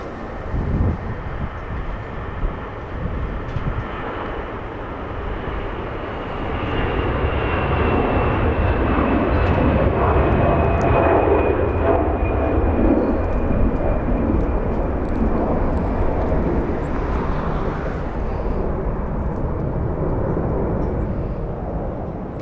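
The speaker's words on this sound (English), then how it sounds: "An Airbus A380, this one is 23 years of age" A 23-year-old Airbus A380 departs from Los Angeles International Airport. Its jet engines build into a loud, steady roar that holds for many seconds, with a faint high whine sliding across the rumble.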